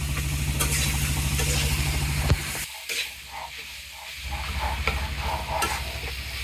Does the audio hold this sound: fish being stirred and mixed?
yes